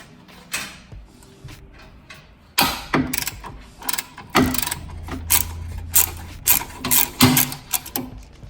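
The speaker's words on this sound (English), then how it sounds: "I had to use a really long ratchet to get enough leverage to break it free" A long ratchet clicks in sharp, irregular bursts while loosening a 17 mm shock absorber nut on a Mitsubishi Montero, with loud clacks and short pauses between strokes.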